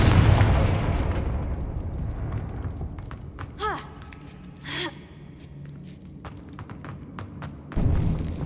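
A Confringo blasting spell explodes in a Harry Potter video game as a deep, booming burst at the start. A second low blast follows near the end, with brief bright magical chimes in between.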